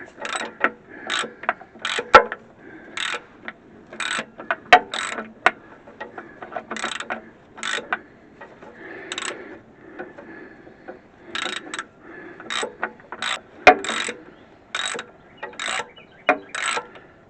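A hand ratchet working a bottom starter bolt loose, clicking in short, regular, clean bursts with brief pauses between strokes, close and clear without talk.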